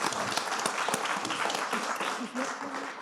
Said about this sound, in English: maybe we want to, do a round of applause and say thank you